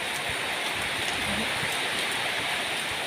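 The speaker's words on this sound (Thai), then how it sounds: "ฝนตกหนักมากๆเลยนะคะ ทั้งลมทั้งฝนเลยค่ะ" Heavy rain pours down with gusting wind in a steady, loud, unbroken wash that fills the whole stretch, with no voices over it.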